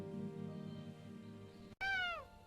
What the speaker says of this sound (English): The cat plays with a leaf